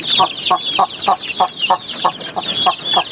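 Chicks whose beaks have been trimmed give rapid, regular clucking calls, about three per second, close and fairly loud over high chirping from the flock.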